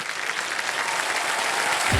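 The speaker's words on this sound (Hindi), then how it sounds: "तालियां बज रही थी." Studio audience applause on a television quiz show set, a dense, steady wash of clapping hands at close range that stays even throughout.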